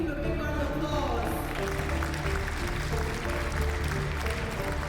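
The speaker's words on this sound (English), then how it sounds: "Please give him a big round of applause" Audience applause for a contestant at an African business competition show rises as a dense, steady wash throughout, with music sustaining underneath.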